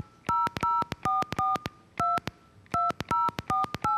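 Touch-tone DTMF telephone dialing of a number: a rapid series of crisp dual-pitch beeps in irregular bursts, some tones close together and others separated by short pauses, clear and alone with no voices.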